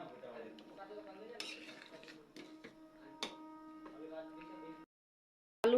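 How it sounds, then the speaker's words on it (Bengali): Potatoes are mashed into a pot of curry gravy, with a metal spoon scraping and clinking against the pot in irregular taps. A few sharper knocks come through before it falls silent. "দুই একটা আলু এইভাবে গলায় দিব, গ্রেভিটা মোটা হবে।"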